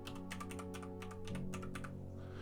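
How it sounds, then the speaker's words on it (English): Quick, faint keystrokes clatter on a computer keyboard, a rapid irregular run of clicks over a steady hum, with no voices. "Using my keyboard to play a video game."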